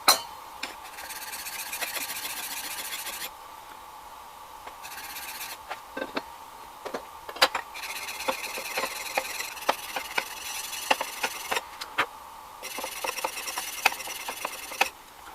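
A Stanley 4 Square 1105 plane iron scrapes back and forth across a sharpening stone in a steady, faint rasping rhythm, strokes repeating continuously with brief pauses and small clicks between passes.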